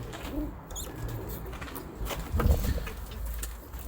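Several pet pigeons of a fancier's flock, white and chocolate colored, give soft throaty coos that come and go over a constant low rumble, fairly close, with no voices present.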